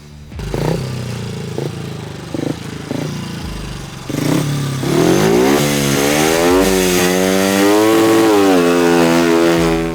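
Racing motorcycle lapping a track during practice and setup runs, engine rising and falling through gear changes, a few short bursts at first then a loud sustained high-revving pass with rapid up-and-down pitch sweeps, close and continuous.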